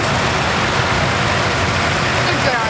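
A 1973 International 1066 tractor engine runs steadily nearby at a loud, constant idle-like rumble, with no pauses, and a voice may be faintly present over it.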